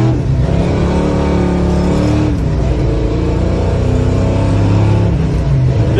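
A Ford Mustang Fastback engine accelerates hard, a loud close-up roar with rising and shifting harmonic tones that climbs through the revs, dips, and pulls again.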